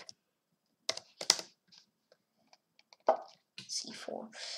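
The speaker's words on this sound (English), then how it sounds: "I'm typing good luck" Typing on a computer keyboard during a chess livestream, with sparse clicks and key taps spread between bits of quiet speech, close and fairly faint.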